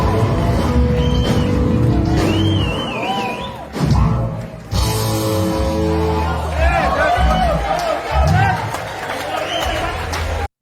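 An audience at a live rock band cover roars with cheers and overlapping shouts, a loud continuous crowd din that dips briefly before surging again.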